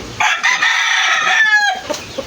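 Fighting roosters crow loudly and close by, one long strained cock-a-doodle-doo followed by short clucks, standing alone without talk.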